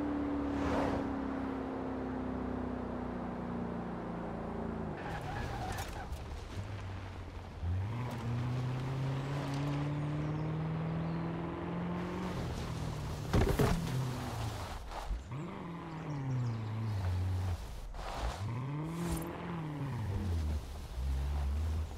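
A car driven in Forza Horizon 4, its engine note rising and falling through gear changes in a steady continuous drone, loud and close, with no talk over it.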